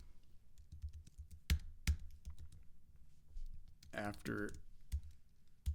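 Computer keyboard typing during coding work on a config file: a few sharp, separate key clicks spaced across the clip, with a brief spoken word in the middle.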